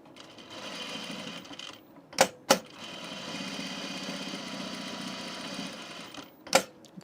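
Sewing machine stitching a princess seam on an unlined blazer, a steady close whirring run broken by a few sharp clacks, then a second continuous stretch of stitching and one more knock near the end.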